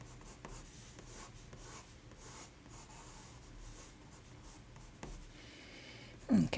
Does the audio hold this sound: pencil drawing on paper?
yes